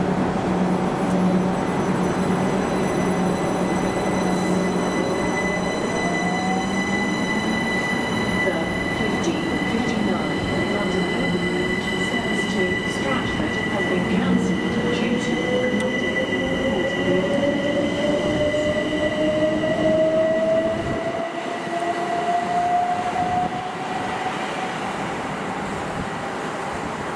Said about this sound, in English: So this is the Shepherd's Bush London Overground and National Rail Station.